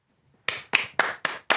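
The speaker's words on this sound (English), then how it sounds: "We'll clap it up for Matt." Five sharp hand claps in a steady rhythm, close and fairly loud, following a brief quiet lead-in, from people clapping in celebration of a first NFL playoff win for quarterback Matthew Stafford.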